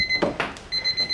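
A kitchen-style timer beeps quietly after one minute of soaking a photogravure solarplate in water, giving a few short, thin electronic tones in a quiet room.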